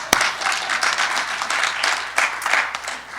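Meeting attendees clapping together in a room, a continuous patter of many hands held at an even level for a few seconds, fairly close.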